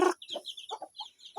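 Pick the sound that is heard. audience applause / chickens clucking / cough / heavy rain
chickens clucking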